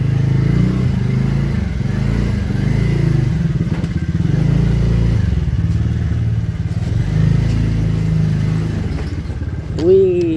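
Motorcycle ridden along a road, a steady mid-pitched engine drone running continuously and fairly loud with some clatter, a brief rising whine near the end.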